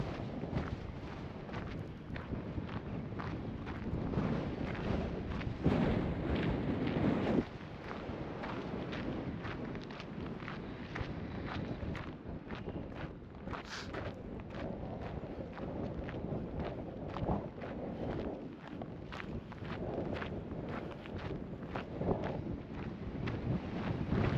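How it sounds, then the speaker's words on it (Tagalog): Strong wind by a lake buffets the microphone continuously, a loud rumbling roar that gusts and surges without letup for the whole stretch. "Sobrang lakas sa hangin."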